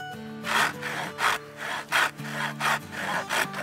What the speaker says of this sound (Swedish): När ni använder Silkys sågar så se till att inte ha några kroppsdelar i vägen när sågen bryter igenom materialet.